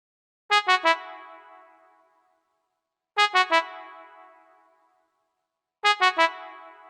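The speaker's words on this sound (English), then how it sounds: "the brass sounds like this." Three bursts of a synthesized brass stab, each a quick triple hit that rings out and fades, repeating at a steady interval.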